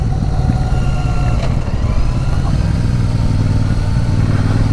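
A Royal Enfield Super Meteor motorcycle is ridden on country roads, its engine a steady loud drone mixed with road and wind rumble throughout.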